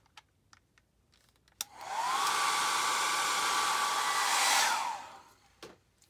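A hair dryer blows steadily for about three seconds to dry watercolor paint, switching on with a rising whine and cutting off again, loud and close, with a few small taps around it.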